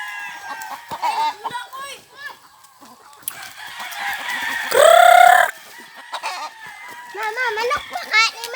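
Chickens cluck and chatter throughout on a farm, with a loud rooster crow bursting out near the middle; people talk over the flock.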